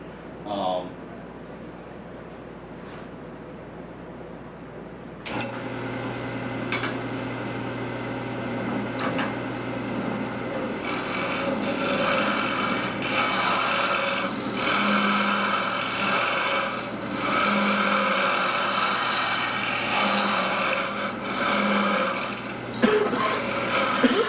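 A wood lathe with a scraper cuts a wooden teapot, giving a steady rasping scrape over a constant motor hum, pushed and pulled in passes that grow louder after a quiet start, with talk in between.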